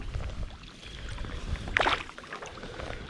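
A kayak paddle strokes through the water while heading into a 10-mile-per-hour wind, giving low wind rumble, soft watery swishes and one brief clear splash near the middle.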